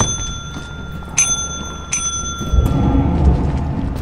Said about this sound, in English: keep spamming the bell